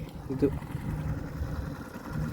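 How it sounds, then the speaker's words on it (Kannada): A boat engine idles at Hampi with a steady low throb that holds all the way through, while a person speaks over it close by. "ಇವಾಗ ಹೋಗೋ ಬೋಟ್ ಇದೆ ಗೈಸ್"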